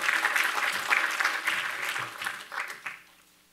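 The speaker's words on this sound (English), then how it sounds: "Let's please give Cal D. Brown a round of applause" An audience applauds Cal D. Brown at a panel event. The clapping is steady for about two and a half seconds, then thins into scattered claps and fades out.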